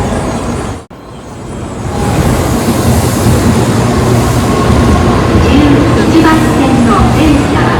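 A Shinkansen bullet train at Kyoto station, heard after a brief dropout as a loud, steady rumble and rush of rolling carriages with faint squeals, with voices in the background.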